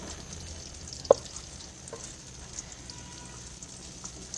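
White chickpea curry ingredients frying lightly in a pan, a steady soft crackle and sizzle with one sharp clink of a spoon against the pan, close and fairly quiet with no voices.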